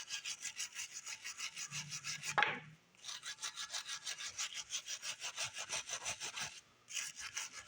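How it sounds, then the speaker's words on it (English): A wire brush scrubs built-up grime off an old carburetor, a steady rhythmic rasping of rapid back-and-forth strokes, loud and close, with two brief pauses. "Just wire brush that a bit."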